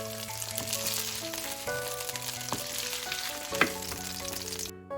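Shrimp frying in a pan, a steady crackling sizzle running continuously with a few sharper pops and stirring scrapes, loud and close, no voices.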